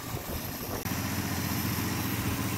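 A freshly built slant six engine runs steadily at raised revs, a continuous close, even mechanical drone after a brief cut in sound, with no talk.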